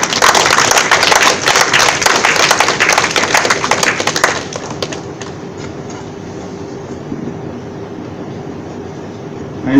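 A graduation audience at BlueCrest College's 11th graduation claps to welcome a professor. Dense, loud applause runs for about four seconds, then thins out and dies away into quiet room tone.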